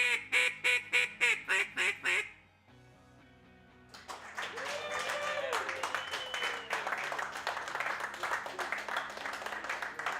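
A world championship duck calling routine mimics duck quacks in a rapid rhythmic series of loud, close quacking calls, then shifts into a sustained run of mixed calls over crowd noise and clapping at a hunting lodge.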